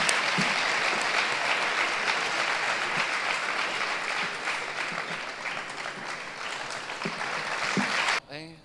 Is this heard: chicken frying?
no